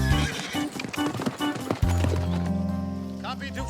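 Horses clip-clop along a bush track called Stringy Bark Track, their hooves mixed with bright music and occasional speech, the steady hoofbeats sitting close and fairly loud.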